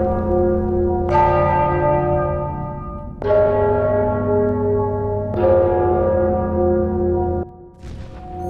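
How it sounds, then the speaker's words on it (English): Church bells in the fantasy video game Enderal toll in slow, separate strikes, each ringing out with a long shimmering decay before the next, three full peals and the start of a fourth. "I'm sure the bells have something to do with the riddle."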